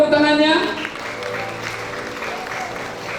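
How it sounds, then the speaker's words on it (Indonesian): Applause from guests at a 17th birthday party at Kenanga Garden in Medan, loud clapping that starts immediately and stays dense under a voice talking over it, easing slightly toward the end. "Sekali lagi tepuk tangannya."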